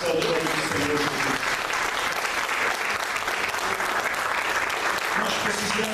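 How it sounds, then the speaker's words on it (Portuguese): A church congregation applauds loudly and continuously during a sermon, with thick, sustained clapping and voices calling out beneath it. "Se você crê nesta palavra, aplauda o nome do Senhor Jesus."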